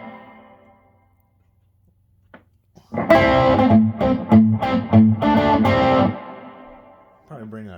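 A distorted electric guitar through a Roland Cube 80X amp's British-style Marshall JMP model plays loud crunchy chords for about three seconds after a quiet pause, with amp reverb ringing out as it stops.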